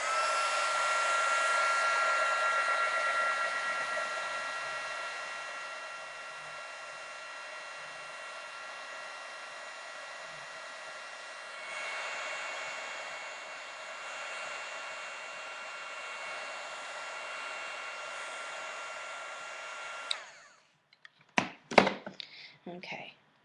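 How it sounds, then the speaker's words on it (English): A heat gun dries a craft project with a loud, steady whining blow for about twenty seconds. It eases slightly partway through, then cuts off, followed by a few sharp handling knocks and clatters. "I'm going to turn this heat gun on for just a minute"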